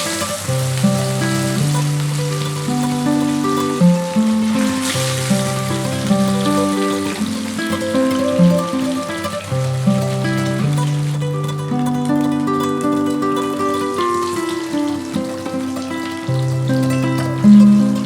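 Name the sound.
katla fish pieces frying in hot mustard oil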